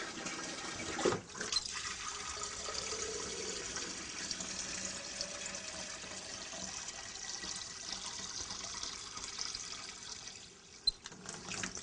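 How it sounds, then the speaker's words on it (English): Water runs steadily into a beaker during flowmeter calibration, a continuous moderate rushing pour with a short clunk near the start and another near the end, no talking. "So let's see how long it takes to fill our beaker."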